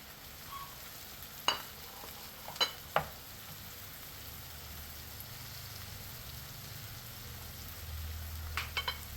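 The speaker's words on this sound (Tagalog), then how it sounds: "Yan, lagay na natin ang ating broccoli" Fresh broccoli stir-frying in a pan with a steady soft sizzle, broken by a few sharp clicks of a utensil against the pan; no one speaks.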